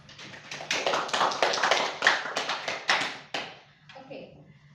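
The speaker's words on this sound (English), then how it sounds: "Please give applause" Applause in a classroom lesson, a few people clapping in quick uneven bursts that build, then break off abruptly, with a voice briefly heard as the clapping ends.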